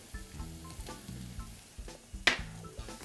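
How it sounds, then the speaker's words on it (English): White onions and chopped garlic sizzle in a hot pan with sesame oil, a soft steady frying hiss with occasional stirring clinks, fairly quiet throughout. "Get that nice and hot. And then some white onions. Some chopped garlic."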